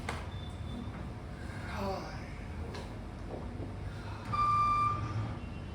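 Reversing beeps from a vehicle pulling out near a roadside dhaba, a faint repeated electronic tone over a low engine idle, with a brief louder beep burst toward the end.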